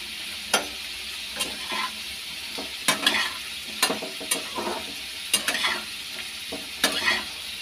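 Papaya and potato pieces fry in oil in a pan in a home kitchen, a steady close sizzle broken by repeated sharp scrapes and clacks of stirring.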